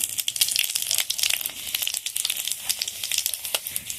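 Spices for tempering sizzle and crackle in hot oil with a dense, continuous high hiss and rapid popping, close and fairly loud, with no talk.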